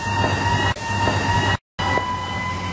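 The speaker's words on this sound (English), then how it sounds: "is that the sound of an ambulance? Yes, it is." An ambulance siren wails steadily and loudly through city traffic, holding a continuous tone with a brief dropout partway through.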